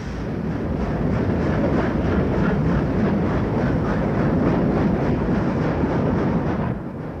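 Steam locomotive 3801 departs Sydney, giving a loud, continuous rumble with a fast steady chuffing texture that holds for several seconds before easing slightly at the end.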